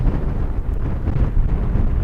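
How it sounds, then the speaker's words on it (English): Gusty crosswind at Dublin Airport buffets the microphone with loud, continuous roaring rumble that swells and eases slightly without a break. "crosswind gusts of 40 knots."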